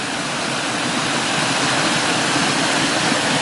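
A waterfall pours in a constant, loud broadband roar, a dense unbroken rush of falling water close by with no voices or other sounds over it.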